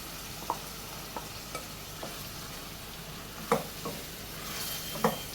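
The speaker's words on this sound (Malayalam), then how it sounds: "പിന്നെ നല്ലതുപോലെ ഇളക്കി മിക്സ് ചെയ്തെടുക്കാം." Spinach and coriander paste stirred in a frying pan, with a few soft scrapes and clicks of the spoon spaced over a low steady sizzle.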